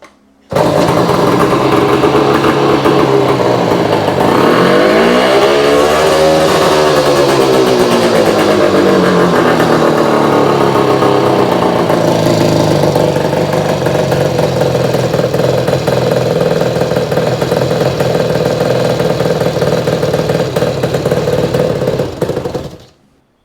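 A small engine with a freshly adjusted carburetor runs loud and steady close by, revving up and down early on before settling into a continuous idle for the rest of the stretch, with no talking.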